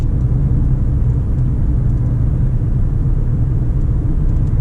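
A 2014 Ford Police Interceptor Sedan driving, heard from inside as a loud, steady low engine and road rumble with no letup.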